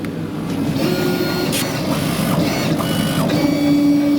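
A laser engraver burns a design into a slate coaster with a steady mechanical hum and whir, plus faint intermittent ticks and a thin tone, running continuously at close range.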